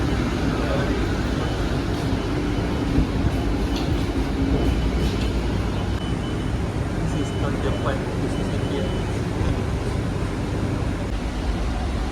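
A Kochi Metro train runs on its rails with a steady, loud rumble and continuous rolling hiss inside the car, and faint voices and small clicks sit beneath it.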